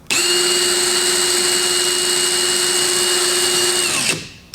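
Running on high speed, a Carlyle Tools 60-volt hammer drill gives a loud, steady high-pitched motor whine for about four seconds before spinning down to quiet.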